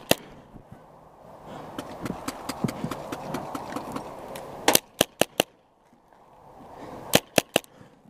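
Paintball guns fire sharp, snappy pops during an outdoor paintball game, with a rapid run of shots through the middle, then a few loud isolated cracks and a final close burst of three, over a rustling background.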